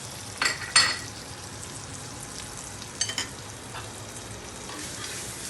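Biryani masala frying in ghee gives a steady, close sizzle, broken by a couple of sharp clinks of a utensil against the pan early on and two more a few seconds later.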